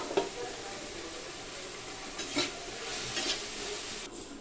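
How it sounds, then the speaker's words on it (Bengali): Turmeric being stirred into a prawn and drumstick curry in a pan, a steady quiet sizzle with several scraping spoon strokes against the pan, close and continuous. "হলুদটা দিয়ে নেড়ে চেড়ে আবার আমি ঢাকা দিয়ে কিছুক্ষণ জ্বালিয়ে নিব"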